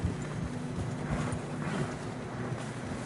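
Horses in a video game plod through snow with soft, muffled clip-clop hooves, a steady walking rhythm under a dense wash of background noise.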